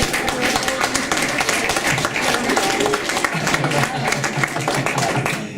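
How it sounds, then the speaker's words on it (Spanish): Church congregation applauding after a baptism, a steady wash of clapping across the whole stretch with background voices mixed in. "Y un aplauso también porque el agua estaba fría."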